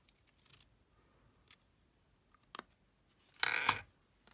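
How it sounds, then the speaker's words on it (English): Scissors snip into the corner of a paper gift box: a couple of faint isolated cuts early, then a sharp single snip and a louder, longer cutting burst near the end, close and otherwise quiet. "I might just snip a little bit more into that corner"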